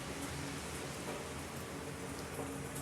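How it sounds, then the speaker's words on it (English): Rain falls outdoors as a steady, even hiss of dense drops, constant and fairly soft throughout, with no voices over it. "Oh, it's raining now."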